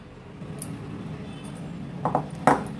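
A spoon mixes sugar into strained yogurt (chakka) for shrikhand: quiet soft stirring, then a few sharp clinks of metal against the bowl near the end.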